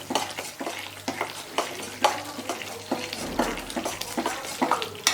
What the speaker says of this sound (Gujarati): ગોળ છે ને માત્ર ઓગળે ત્યાં સુધી જ હલાવીશું